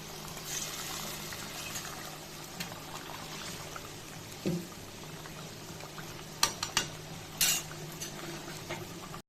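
Soybean chunks tipped into a hot cooking pan, with steady sizzling and bubbling throughout and a few sharp clinks of a utensil against the pan near the end.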